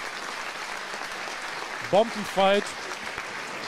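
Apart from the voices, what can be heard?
applause for both fighters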